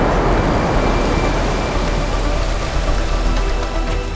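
Heavy rain pours down in a dense, steady roar, loud and continuous with no let-up.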